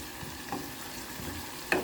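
Chopped onion, garlic and ginger sizzle steadily in hot oil while being stirred, with a low continuous fry and a couple of soft spoon scrapes near the middle and end.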